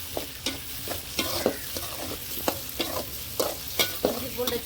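Tomatoes sauté in a hot pan for an egg gravy, a steady sizzle punctuated by repeated, evenly spaced scrapes of a spoon stirring, close and clear with no talking.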